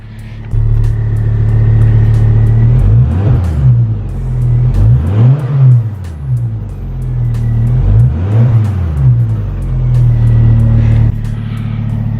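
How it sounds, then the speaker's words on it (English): Ford Focus ST225 fitted with a Milltek exhaust, blipped repeatedly: loud, close revs swelling and dropping in a series of sweeps over a deep burbling idle, standing alone without speech. "Let's give it a bit of a blip."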